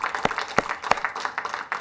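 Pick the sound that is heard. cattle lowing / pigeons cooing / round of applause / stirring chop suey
round of applause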